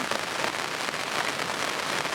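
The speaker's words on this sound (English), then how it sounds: "look at that rain" Steady rain pours down outdoors beside a carp fishing spot in Yorkshire, a dense, even hiss of drops on surfaces that stays loud and unbroken throughout.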